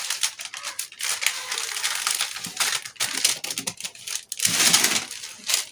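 Scissors cutting out a paper sewing pattern for a basic body block, with continuous crisp crunching and crinkling of paper in quick uneven snips, close and moderately loud, no talking.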